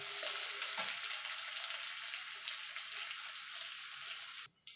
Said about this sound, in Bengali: পেঁয়াজটা দিয়ে পেঁয়াজটা একটুখানি হালকা করে ভেজে নেব।